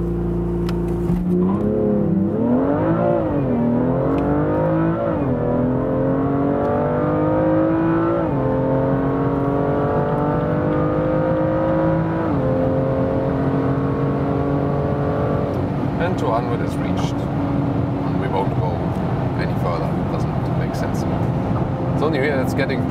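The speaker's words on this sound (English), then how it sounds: "This launch control program, the car was shifting automatically" A BMW M2 Coupé accelerating hard with launch control, engine roaring up through repeated rising sweeps as it shifts automatically, loud and close throughout with some talking over it.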